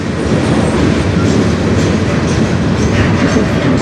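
A long freight train rolls past close by, with two locomotives at the head and a distributed-power unit mid-train, its railcars producing a loud, steady rumble and clickety-clack of wheels on the Strathroy Subdivision line.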